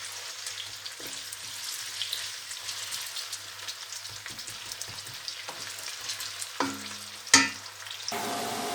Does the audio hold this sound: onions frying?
yes